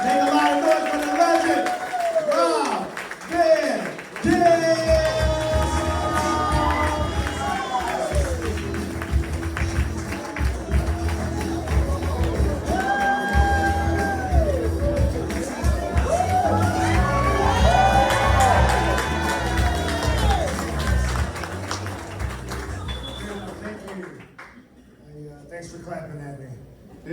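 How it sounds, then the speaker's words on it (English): A stand-up comedy audience claps, whoops and cheers loudly for the wrestler Rob Van Dam, a dense crowd roar that continues for over twenty seconds and fades at the end. "Everybody start clapping right now. Start clapping. Make a lot of noise for the legend, Rob Van Dam."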